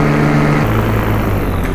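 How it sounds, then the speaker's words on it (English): Paramotor engine powering up in flight into a headwind, a loud, steady close droning roar whose pitch shifts partway through, with no talk. "Add some power to it because I got a motor on."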